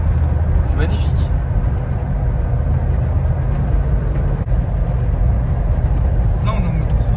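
A car cruising a slow honour lap of the Spa-Francorchamps circuit, its steady engine and road rumble droning throughout while people talk inside.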